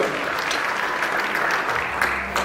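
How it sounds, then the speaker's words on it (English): An audience at a live stage show in a performing arts center applauds, a dense, continuous clapping that stays steady and loud for the whole moment. "Let's give Linda a big round of applause."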